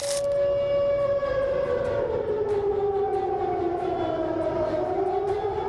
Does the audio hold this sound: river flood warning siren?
yes